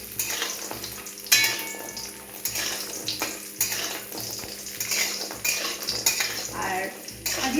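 Lentil dumplings (bori) frying in hot oil in a home kitchen, continuous crackling sizzle with frequent metal clatter of a spatula and pan, close and busy throughout.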